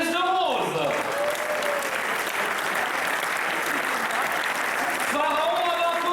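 An audience applauds steadily at a 175th-anniversary celebration of the municipal brass band of St-Ursanne, the clapping swelling after a brief voice and fading as speech resumes at the end.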